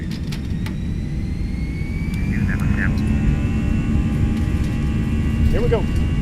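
Airbus A319 jet engines in a flight simulator spool up for takeoff, a broad roaring rumble that swells louder partway through, with faint voices underneath.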